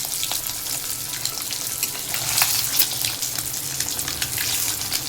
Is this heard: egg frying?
yes